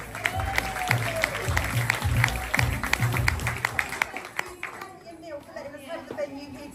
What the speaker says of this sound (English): Big round of applause for Chris.